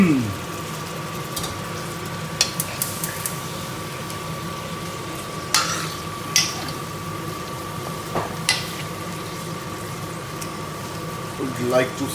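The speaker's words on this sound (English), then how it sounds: "Would like to seal this chicken now." About 1.2 kg of chicken is being seared in a hot pan for murg mirch korma. It gives a soft, continuous frying hiss beneath a steady kitchen chimney hum, with scattered scrapes and clinks of stirring.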